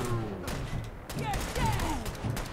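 Gunfire in Fallout 4 survival mode, from gunners shooting at the player, comes as bursts of sharp shots amid in-game sounds while someone talks over it.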